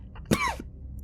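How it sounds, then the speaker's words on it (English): A single sharp, close cough from a man bursts out once and drops quickly into quiet. "The coughing, made worse by the stress and hunger, doubled him back over in chest-heaving coughs."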